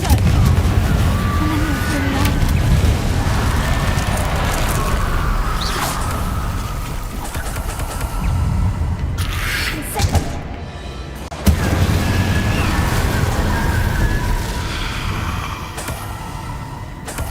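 Confringo blasting-spell explosion in Hogwarts Legacy, heavy booms and crackling bursts amid loud battle noise, a short near-silent gap, then another sharp blast, with voices speaking over it.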